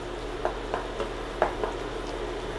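Extra sharp cheddar cheese being stirred in a pan as it melts, giving soft scraping strokes at a steady pace over a faint sizzle, close and quiet with no talking.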